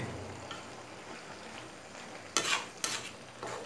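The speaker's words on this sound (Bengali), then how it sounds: "নিচের থেকে উপরে, উপর থেকে নিচে করে ভালো করে নেড়ে দিব" Spinach and chicken cook in a karai, a soft steady sizzle underneath with a few sharp scraping bursts as the greens are turned and stirred near the end; no one speaks.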